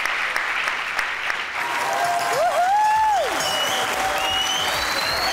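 Studio audience applause on the comedy show Hasna Mana Hai: continuous, fairly close clapping with a few whoops and a voice rising over it midway.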